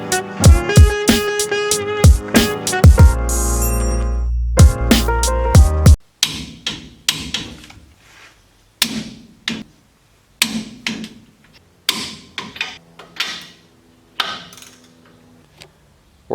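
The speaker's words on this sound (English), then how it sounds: "I'm going to go through and torque every U-bolt to spec all the way around" Spring U-bolts on a diesel truck are torqued down with a wrench. A loud mechanical clatter opens, then a series of sharp separate clicks and knocks follows at an uneven pace.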